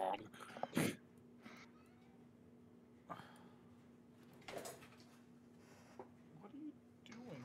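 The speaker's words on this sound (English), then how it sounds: "I hear a meow. I hear things falling." Indoors, a cat meows and objects clatter down in a few sharp, separate knocks, with a faint voice and a steady low hum underneath.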